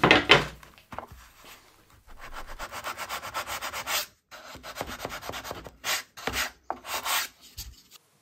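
Hand sanding along the edges of walnut footstool parts, in repeated rhythmic back-and-forth strokes of rasping abrasive, close and fairly quiet, with short pauses between bursts.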